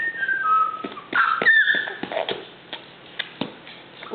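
Someone whistles a few short, thin notes up close, with scattered soft ticks and taps around them.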